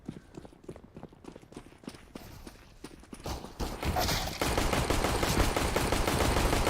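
In-game pistol fire in Counter-Strike: Global Offensive, a run of sharp, rapid shots mixed with quick footsteps, then a denser burst of gunfire under a rising wash of noise, with no voices.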